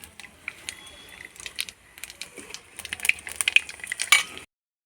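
Whole cardamom, cloves, cinnamon and mace drop into hot mustard oil left from frying potatoes for a chicken curry, setting off a quiet sizzle that builds into sharp, crackling spurts and spits toward the end.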